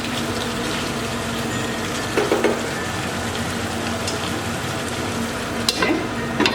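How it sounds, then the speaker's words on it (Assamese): A lid is set down on a pot of sesame chicken curry with pumpkin cooking over a medium flame. A couple of soft knocks come through a steady, close sizzle and bubbling. "এতিয়া মই ঢাকনিখন আৰু এবাৰ মাৰি দিম"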